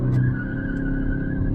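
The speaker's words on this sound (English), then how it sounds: "Lot of wheel spin and lot of pickup from this vehicle." A Ford Freestyle Titanium diesel crossover with traction control off launches from high revs, its engine droning steadily and loud, close by, while the tyres scrabble and squeal briefly at the start.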